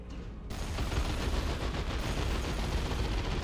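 Sustained gunfire from an upgraded Ork Shoota Boyz squad with its Nob leader in Dawn of War 2: Retribution, a steady, dense rattle of overlapping shots that runs continuously at a moderate level.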